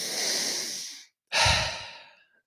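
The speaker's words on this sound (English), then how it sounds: "continue for about 3 more deep breaths with me" Deep breaths taken while seated during a breathwork session: one long loud breath lasting about a second, a brief pause, then a second strong breath, close to the microphone with no talking.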